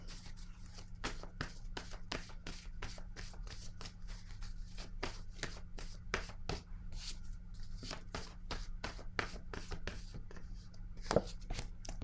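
A word card is drawn from a deck, a quiet run of rapid papery flicks and taps, like cards being shuffled and handled, close and soft over a low steady hum.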